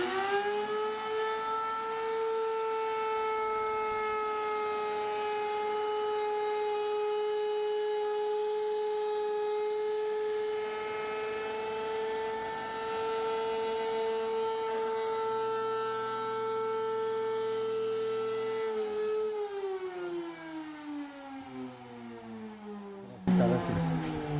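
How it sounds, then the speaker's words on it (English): A router table with a tongue and groove bit spins up into a loud, steady high-pitched whine while cutting wood, holding pitch for a long stretch before winding down at the end. "We're gonna test it out right now on the router table."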